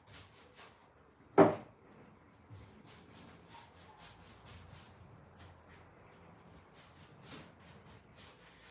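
White wax being rubbed into carved furniture by hand, heard as quiet, soft scratchy rubbing strokes with one sharp knock early on, and no talking.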